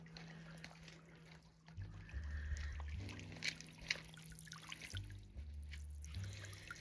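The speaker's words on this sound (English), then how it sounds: "It's a solar fountain." A small solar-powered garden fountain trickles softly in a high country cottage garden, a faint steady water patter with quiet splashes and a low hum, close by with no talking.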